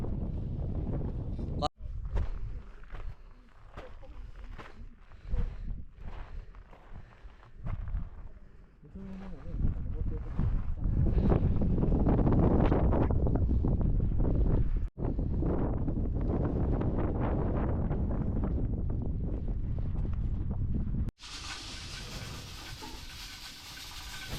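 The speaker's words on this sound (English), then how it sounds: "Windy as hell." Strong wind on Mount Fuji roars and buffets the microphone in heavy gusts, with brief muffled voices early on.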